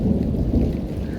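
Heavy thunderstorm with loud, continuous rolling thunder and dense rain, a steady close rumble with no pauses.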